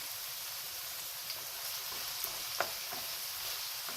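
Eggplant slices fry in oil in a pan, a steady bright sizzle throughout with a few small pops and crackles breaking through, close up and with no one talking.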